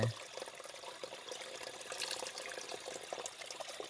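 A forest stream flows steadily, a continuous close rushing and bubbling with no voices.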